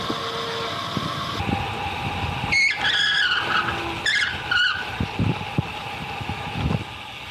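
A car's brakes lock up as its tires squeal through several sharp skids, the high screeches rising over a steady engine and road rumble.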